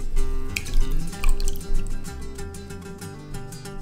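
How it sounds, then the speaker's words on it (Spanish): Rinsed rice is drained in a kitchen, with water trickling and dripping close by in short bursts. Music plays steadily in the background. "Y finalmente lo escurrimos."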